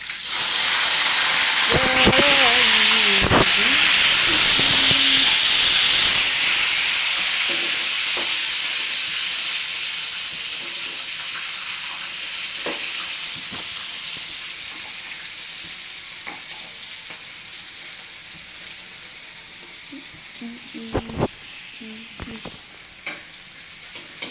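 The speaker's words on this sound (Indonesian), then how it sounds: "Nah, kita goreng ikan tuna ini." Tuna pieces frying in hot oil in a pan give a loud, steady sizzling hiss that slowly fades, with a few scrapes of stirring, close up and without speech.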